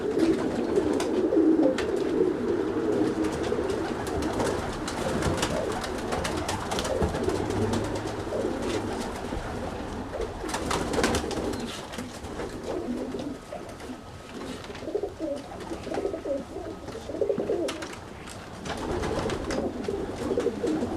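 Roller pigeons coo steadily in low, soft, throaty rolls, several birds overlapping close by with light rustling and no talking.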